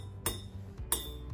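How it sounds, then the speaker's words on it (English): A spoon strikes a glass cup filled with water twice, each a bright, close clink with a short ringing tone that fades quickly, over faint background hum. "So you would use 6 glass cups, food coloring, and water, and a spoon to make the tone, the noise."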